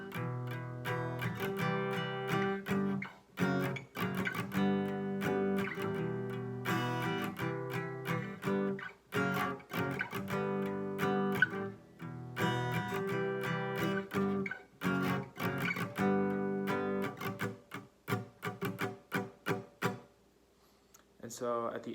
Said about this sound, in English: But the intro in total will sound like this.